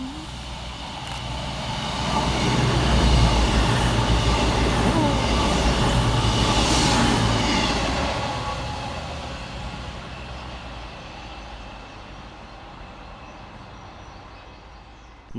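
A Class 221 CrossCountry train passes fast through Mauldeth Road in the rain. A loud, rumbling rush builds within two seconds, holds strongly for several seconds and then fades slowly into a softer background wash.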